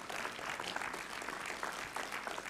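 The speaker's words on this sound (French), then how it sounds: "Allez, applaudissez-les, applaudissez-les" Audience applause at an award ceremony of a digital imaging and animation school, a dense, steady patter of many hands clapping from the crowd without pause.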